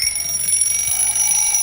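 An alarm clock rings steadily underwater, a muffled, pulsing electronic whistle with high piercing tones, fairly loud and continuous with no voices.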